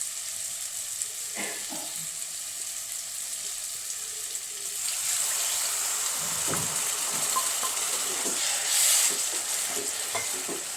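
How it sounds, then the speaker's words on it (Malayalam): Water goes into a hot pan of beef pickle, and a quiet stirring sizzle swells midway into a louder, steady hiss that carries on to the end, close and without voices. "കുറച്ച് തിളപ്പിച്ചേറ്റി വെള്ളം ഒഴിക്കാം."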